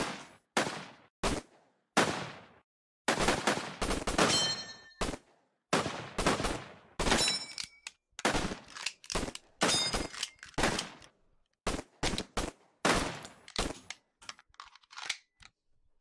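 Gunfire crackles through a battle in the video game Unconventional Warfare, heard as sharp, close bursts and rapid volleys broken by short silent gaps across the whole stretch.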